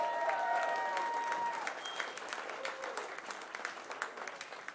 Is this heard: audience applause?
yes